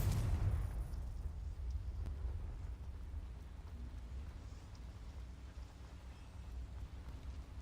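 Spell explosions from a fantasy video game battle, the Confringo and Bombarda spells: a faint, continuous deep rumble and booming wash with no distinct separate blasts.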